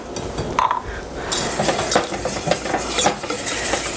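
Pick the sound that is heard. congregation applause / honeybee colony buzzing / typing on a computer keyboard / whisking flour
whisking flour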